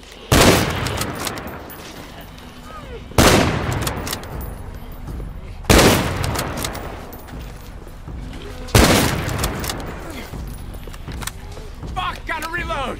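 Heavy gunshots in the zombie shooter No More Room in Hell 2, four loud evenly spaced blasts each trailing a long echoing tail, with a voice audible between them.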